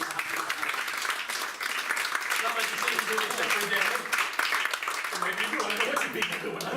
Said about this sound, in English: I say give him a round of applause.